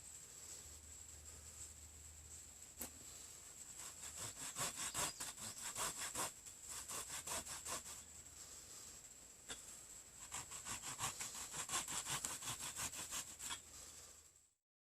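Bow drill spindle spinning against a wooden fireboard, a rapid rhythmic back-and-forth rasping of wood on wood in bursts of strokes with brief pauses, close and moderately quiet with a thin high whine throughout.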